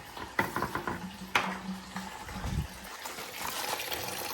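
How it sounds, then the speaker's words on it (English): Engine coolant trickling and dribbling out of the cylinder head of an Audi TT race car after an engine failure, a soft steady flow with a few faint clinks, close and without talk. "The coolant's just about done draining."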